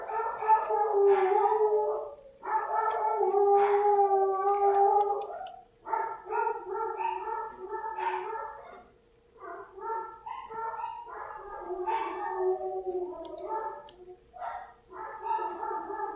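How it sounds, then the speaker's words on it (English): Several dogs bark, howl and whine loudly and close by in long overlapping bursts, with brief pauses between volleys and no talk over them. "my dogs are barking right now, so they're actually barking very loud"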